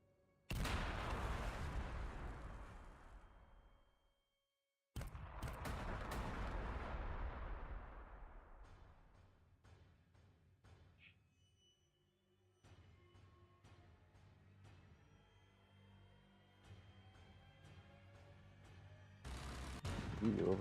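Units in Warhammer 40000: Sanctus Reach open fire in a series of heavy artillery-like booms, two big blasts with long rolling decays, then a scattered patter of smaller shots and impacts over a lingering rumble, ending in another loud burst.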